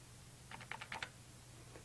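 Calculator keys tapped in a quick burst of about six faint clicks over a low steady hum, then a single light press a moment later.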